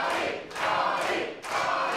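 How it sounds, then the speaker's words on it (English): A wrestling crowd roars in support of Ollie Sutton, with swelling waves of cheering and chanting that rise and dip in a rhythm over two seconds, loud and dense. "Crowd definitely behind Sutton here."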